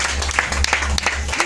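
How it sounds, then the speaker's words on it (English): An audience at a church Bible quiz applauds a competing group, a short burst of mixed clapping with a low hum underneath and faint voices in the room. "Let's clap for them."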